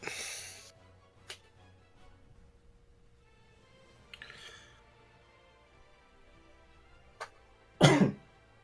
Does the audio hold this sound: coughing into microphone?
yes